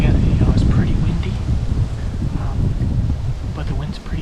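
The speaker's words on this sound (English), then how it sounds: "Again, it's pretty windy" Strong wind buffets an open ridge in Iowa during a bowhunt, a loud rumbling roar of gusts against the microphone with rustling underneath, under quiet talk.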